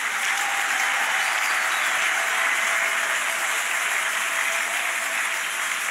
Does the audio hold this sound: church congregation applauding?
yes